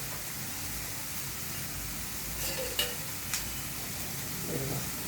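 Ridge gourd curry cooking with milk in a pan, a steady soft sizzle and bubble with a couple of light clinks of a utensil.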